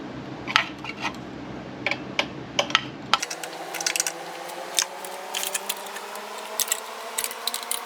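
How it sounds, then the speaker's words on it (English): A 1/2-inch wrench tightens a carburetor bolt on a 1975 John Deere 300 tractor, giving a series of faint metallic clicks and ratcheting taps at an irregular pace, close by, with no talk. "we'll finish tightening it with our 1/2-inch wrench"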